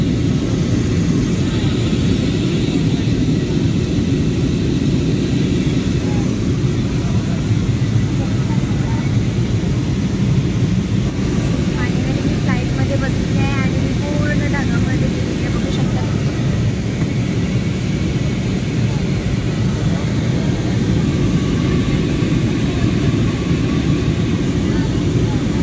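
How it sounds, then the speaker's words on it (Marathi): A steady, loud engine drone fills an airplane cabin in flight, unbroken from start to finish, with faint voices briefly underneath. "आमचं विमान 1000 फूट जमिनीपासून वरती उडालेलं आहे"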